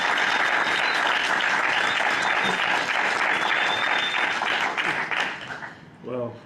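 Applause from a lecture audience welcoming a speaker to a talk on Fanon and Black male studies, loud sustained clapping that fills the room and then thins out, with a voice starting to speak near the end.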